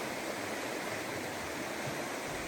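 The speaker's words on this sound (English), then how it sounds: "We're still following the mighty Hiawassee, a very rocky river, big huge slabs of rock all throughout it." Rushing water of the rocky Hiawassee River, a big river broken by huge rock slabs on the Benton MacKaye Trail, a steady broadband roar filling the whole clip with no voices.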